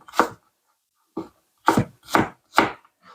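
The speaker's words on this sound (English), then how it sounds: "And then just a quick kind of chop for the onion." A knife chops onion on a cutting board for potato salad, landing five distinct, crisp thuds in an uneven rhythm, close and clear with silence between strikes.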